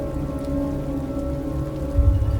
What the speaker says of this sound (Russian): Вдруг я вижу, что сильный ливень начинает размывать землю.